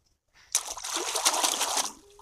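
Water is poured over a pineapple to wash it in a garden setting, a sudden close splashing trickle that starts after a short silence, runs about a second and a half, then fades out.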